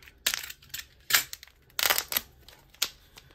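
A plastic cup being cut around a desert rose seedling, with several crisp crackling snips and crunches of the plastic in irregular bursts, close and fairly quiet.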